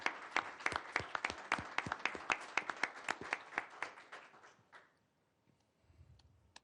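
Audience applause at a St. Joseph County Board of Commissioners meeting: a small crowd claps in a close, steady burst for about five seconds, then it stops and leaves near silence with a faint low rumble.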